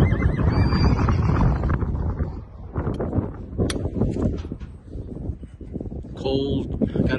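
A filly whinnies amid wind buffeting the microphone on a cold, windy day, with hoof sounds and people talking in the background.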